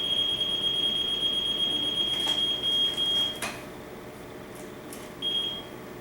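A TIF ZX-1 heated-diode refrigerant leak detector, testing for R410A, sounds a steady high-pitched alarm tone that holds for several seconds, cuts out, and then briefly returns.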